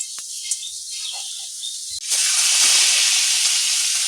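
Red amaranth greens frying in a pan as ground peanuts are added, a steady hiss that swells into a louder, fuller sizzle halfway through.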